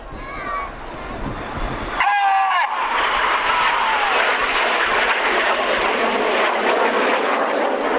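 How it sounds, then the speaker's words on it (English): Red Arrows jets fly opposing 360-degree 6G carousel turns at an air display, a broad loud jet roar that swells in abruptly and holds steady. A commentator talks over it on a loudspeaker. "Just cross 3 times in opposing 360-degree 6G turns as they fly the carousel"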